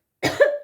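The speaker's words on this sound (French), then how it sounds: "Je vais tousser." A single throaty cough from a woman who has swallowed the wrong way, close and fairly loud, rising into a short strained rasp with a vocal edge and trailing into a second brief cough.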